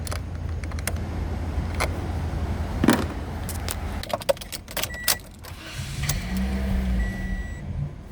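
A Toyota Corolla engine cranks steadily at close range without catching, with a low, even drone for about four seconds, followed by scattered clicks and rattles and a softer hum.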